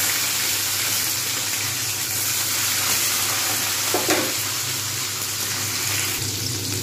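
Beans sizzle and fry in a hot wok with a steady, crackling hiss. A single stirring scrape comes near the middle, and no one speaks.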